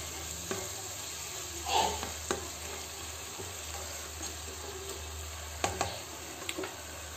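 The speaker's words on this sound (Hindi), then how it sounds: "अब मैं इसे कर दूंगी मिक्स" Vegetables frying in a pan and being mixed, a soft continuous sizzle with a few spoon scrapes and knocks against the pan, fairly quiet and close, with no talking.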